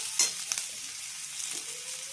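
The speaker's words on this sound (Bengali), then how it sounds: "সবজিগুলি এবার ভাজা হচ্ছে" Vegetables fry in a wok with a steady close sizzle and a couple of brief stirring scrapes, no voices.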